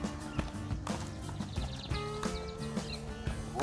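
Hooves of a horse ridden in a circle during a training session, a steady rhythmic clip-clop at moderate distance, fairly quiet with low background hum.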